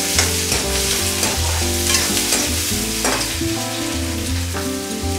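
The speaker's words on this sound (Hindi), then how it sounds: "पियाजटा आमर गोल्डन कलर हबा तो भाजमा। पियाज भाजला बेले का करमा लुण टिके बागे पके दमा" Onions frying in oil in a pan for a dhaba-style egg curry with cumin and green chilli, a steady loud sizzle with repeated stirring scrapes and clinks, no talk.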